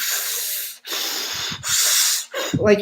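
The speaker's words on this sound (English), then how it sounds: "You're really sucking in air." Deep Wim Hof style breathwork: three long, loud, hissing breaths sucked in close to the microphone, separated by short pauses, ending with a lower rough exhale, with no talking.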